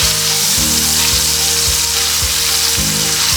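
Beef for pot roast sizzles and fries steadily in a hot pot, a loud continuous crackle with a few soft scrapes as the pieces are turned.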